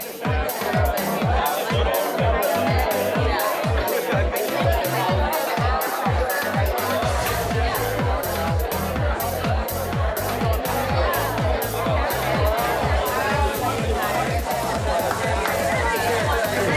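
A large audience chats with their neighbors, a dense, steady babble of many overlapping voices that fills the room at even loudness.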